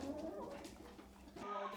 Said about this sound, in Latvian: Šīs vistiņas ir izpestītas no sprostiem.